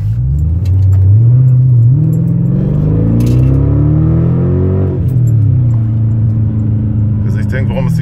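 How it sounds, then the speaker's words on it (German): A V8 car driven with no exhaust fitted: loud, raw engine roar that climbs and falls through several revs over eight seconds, with someone talking over it. "Ich fahre die Karre ohne Auspuff."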